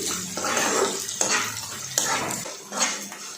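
Onions frying in a pan for a Kerala-style South Indian fish curry, stirred with a utensil that scrapes and clinks against the pan in several rhythmic strokes over a soft sizzle, close up, no voices.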